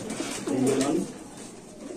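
One pigeon gives a short warbling coo nearby, brief and moderately loud, then fades into soft background noise, among female pigeons at a pigeon sale.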